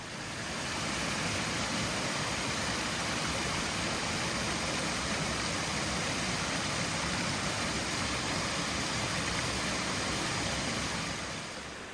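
Cascade des Tufs waterfall near Arbois in the Jura, a dense, loud, unbroken roar of falling water holding steady throughout with no voices.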